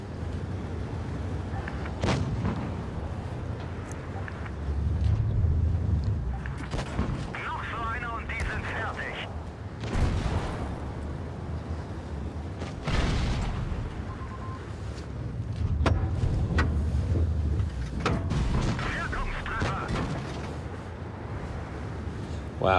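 Tank cannon fire in the mobile tank battle game WoT Blitz, with heavy booming shots and ricochet clanks mixed into a continuous battle din and engine rumble, under steady talk.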